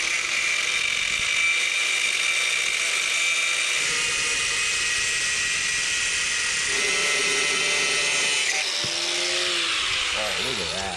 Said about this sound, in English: I'm gonna bust out the angle grinder and get this cut.